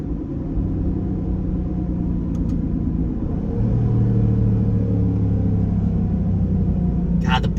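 A Dodge Durango R/T SUV's engine rumbles steadily while driving, swelling into a louder rev partway through, with a brief click near the end and no talking.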